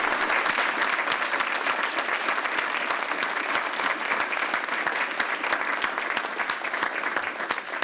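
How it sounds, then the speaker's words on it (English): An audience applauds steadily at a board meeting, dense sustained clapping that stays loud and even from start to finish with no talk over it. "let's give him a round of applause."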